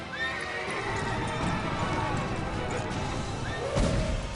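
A horse whinnies near the end of a busy mix of steady clip-clopping hooves, set against a dense, continuous background of field noise.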